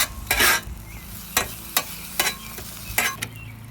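An omelette with cheese cooking on a Blackstone griddle, with a continuous sizzle broken by loud, repeated scraping strokes of a spatula across the flat metal surface.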